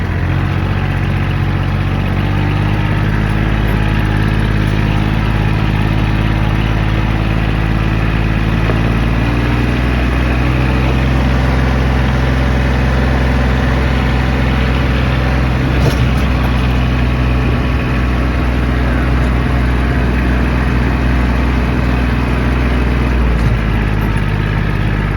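A Kioti CK27 compact tractor's engine runs continuously close by, a loud, steady diesel drone with a slight shift in pitch partway through as it drives around a property.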